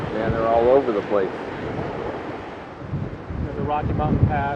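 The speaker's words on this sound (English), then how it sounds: "Another windy day. Not quite as bad as the other day." Strong gusty wind on the Big Sur coast of California buffets the microphone with a low, continuous rumble, while a person talks over it.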